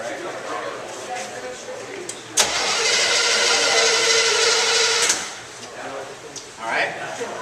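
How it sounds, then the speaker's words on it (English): Car engine cranked over on its starter, a loud whirring burst of about three seconds starting abruptly, set against quieter background noise with a faint later rise. "I'm going to crank it over."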